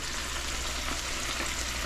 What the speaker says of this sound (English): we're frying them until they float